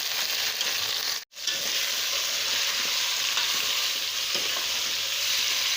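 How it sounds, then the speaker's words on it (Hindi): Meat frying with golden-brown onions for aloo gosht: a steady, loud sizzle with stirring scrapes, broken by a brief silent gap near the start. "अब इसमें हम डालेंगे गोश्त। यहाँ पे ये सारा का सारा गोश्त हम इसमें शामिल कर देंगे और इसको अच्छी तरीके से भून लेंगे।"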